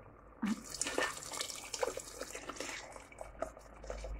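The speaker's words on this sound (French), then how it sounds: "Maintenant, je vais couvrir d'eau." Water is poured into a cooking pot to cover browned ingredients, heard as a close splash at the start and then an uneven trickle and splashing, fairly faint.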